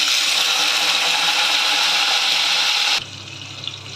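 Green chillies dropped into about four tablespoons of hot oil for gongura pachadi, a loud broad sizzling hiss that cuts off abruptly after three seconds to a quiet low hum.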